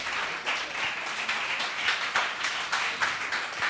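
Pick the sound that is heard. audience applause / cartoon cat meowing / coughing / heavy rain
audience applause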